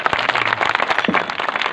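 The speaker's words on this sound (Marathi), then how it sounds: "या दोघांकरता एकदा टाळ्या वाजवा" Brief burst of audience applause at a Marathi kirtan for two mridang players, dense close clapping from a crowd throughout the short moment.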